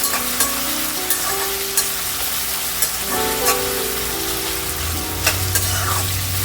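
Tomatoes fry and are stirred in a pan while cooking uggani, a Rayalaseema specialty, giving a steady close sizzle broken by regular scraping stirs throughout.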